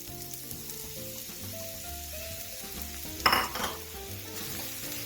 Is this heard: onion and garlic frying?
yes